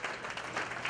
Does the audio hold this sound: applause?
yes